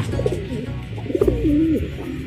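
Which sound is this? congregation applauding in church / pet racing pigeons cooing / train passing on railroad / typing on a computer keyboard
pet racing pigeons cooing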